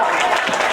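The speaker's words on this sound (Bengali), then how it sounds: "এটি জোর করে হাততালি আমার জন্য।" Dense, steady applause from an audience at a student award ceremony, many hands clapping together in a loud, continuous wash with no gaps.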